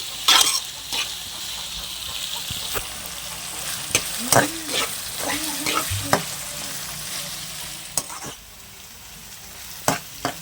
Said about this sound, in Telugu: ఇదిగోండి క్యాప్సికం ఫ్రై అవుతుంది చక్కగా నిదానంగా.